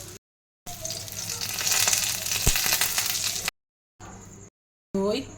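Lentil cakes (dhoka) fry in a pan with a steady, fairly loud sizzle lasting about three seconds, broken by short gaps and brief quieter kitchen sounds near the end.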